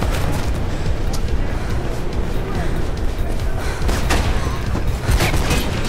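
Gunfire crackles in Mirror's Edge as dense, loud, booming shots and bursts, layered over a thick rumble of game noise, with speech over the top.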